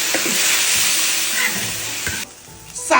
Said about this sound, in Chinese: 起锅烧油，葱姜各种大料搞里头，把牛鞭搞里头，来点生抽、老抽